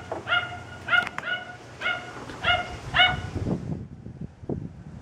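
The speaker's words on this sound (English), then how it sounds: "Oh, that dog has been going for like an hour or so, maybe more." Loose dog outdoors at night barks in a quick run of five or six sharp yips, moderately distant, then falls quiet under faint rustling ambience.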